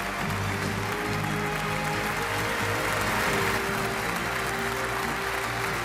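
A steady, loud wash of applause from an audience at a corporate promotion ceremony in Korea, with many hands clapping continuously throughout amid low background music.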